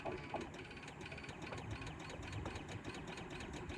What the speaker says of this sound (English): Well, the fuel pump definitely sounds better.